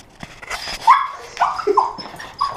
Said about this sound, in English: I'm about to see his dog for the first time